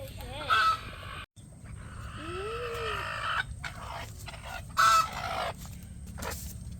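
A hen sitting on her eggs clucks in short, fairly close calls with brief pauses, over a faint steady background hum.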